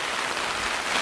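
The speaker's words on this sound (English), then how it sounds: "The rain's coming properly in now" Steady rain patters on a wild camping tent in the Peak District, a dense, even hiss filling the whole short stretch with no voices.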